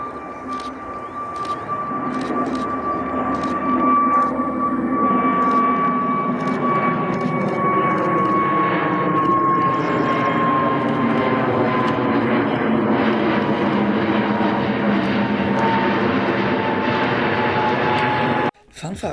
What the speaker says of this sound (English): the airplane you are looking at right now is a Lufthansa City Airlines A320neo